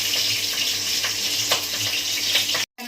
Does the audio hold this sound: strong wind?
no